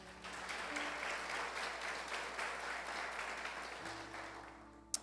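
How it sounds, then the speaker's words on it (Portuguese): A church congregation applauds in praise of God, giving a sustained wash of clapping that stays even throughout, somewhat distant and moderately quiet, ending with a brief sharp knock. "Você pode aplaudir a Ele por isso?"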